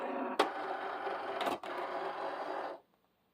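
A Cricut cutting machine works through heat transfer vinyl on a mat, giving a steady mechanical whirring hum with a couple of sharp clicks, close and fairly loud, before stopping abruptly near the end.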